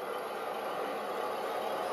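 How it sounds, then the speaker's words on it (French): The onboard speaker of a 1/10-scale Hummer M1025 RC car (HGP408) plays a simulated engine idle, a steady, even rumbling drone held close and unchanging with no voices over it. "ça démarre le bruit moteur, le bruitage du moteur."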